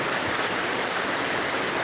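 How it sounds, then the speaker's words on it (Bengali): Heavy nighttime downpour in the Bashundhara area of Dhaka, a dense, steady hiss of rain filling the whole stretch at constant loudness with no voices. "ঢাকা বসুন্ধরা এরিয়াতে প্রচুর বৃষ্টি হচ্ছে"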